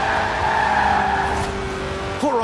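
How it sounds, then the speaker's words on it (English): A car engine revs hard and steady in the video game Forza Horizon 4, a 1.8-litre engine revving to 8,000 RPM, while tires skid through a long drift, ending in a brief rising squeal. "The honourable art of drifting."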